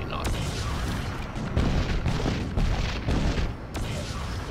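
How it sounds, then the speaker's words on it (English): Booming shots from a combined sniper rifle and anti-tank gun in the Crysis video game, several heavy reports in steady succession under game noise, with a voice talking over it. "This thing is both a sniper rifle and an anti-tank gun."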